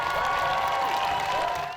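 Crowd applause at a National Day for Truth and Reconciliation gathering outside the Canadian Museum for Human Rights in downtown Winnipeg, steady dense clapping from many people sustained throughout, tapering slightly at the end.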